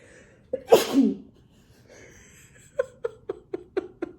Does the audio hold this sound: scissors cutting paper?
no